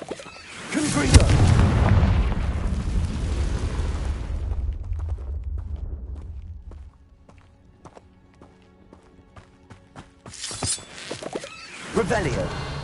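Confringo blasting spell in the Hogwarts Legacy game, a loud booming explosion that swells and rumbles for several seconds before fading, followed by faint footsteps and another burst of activity, with a voice speaking.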